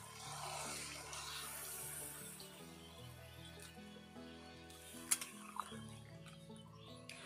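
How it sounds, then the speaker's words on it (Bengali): Water pours into a pan of fried rui fish for a jackfruit curry gravy, a steady splashing wash lasting a few seconds, partly masked by continuous background music. "মাছ দেওয়ার পর দিয়ে দিচ্ছি ঝোলের জন্য পরিমাণ মতো জল।"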